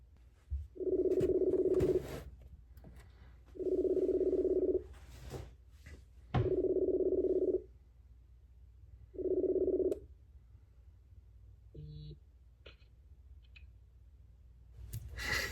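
A phone ringback tone purrs four times in a steady rhythm, clear and moderately loud, with quiet gaps and a faint click and beep near the end.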